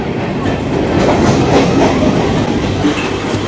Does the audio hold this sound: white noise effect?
no